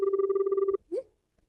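Telephone ringing with an incoming call, a steady electronic bell tone repeating rapidly for under a second before cutting off abruptly, followed by a brief faint sound and quiet.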